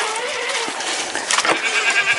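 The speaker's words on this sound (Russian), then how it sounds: "Что, козы? Орете?" Goats on a farm bleat loudly and close by, several overlapping cries forming a continuous noisy chorus through the whole clip with no speech.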